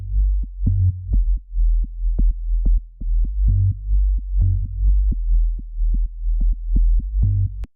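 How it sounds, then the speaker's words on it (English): Very low sub bass built from two gently filtered sine waves dropped two octaves down, playing a simple mostly single-note line as a series of deep throbbing notes with soft clicky attacks, with no other sounds. "I've just opted for 2 sine waves and I've filtered them ever so slightly and brought both of them down in 2 octaves"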